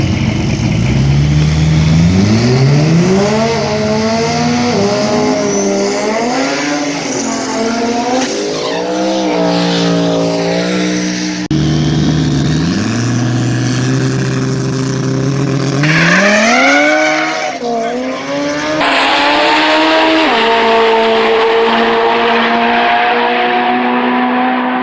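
4G63-powered Foxbody Mustang race car making a drag pass, loud and close, the engine climbing in pitch through several gear shifts with tire squeal, then fading as it pulls away.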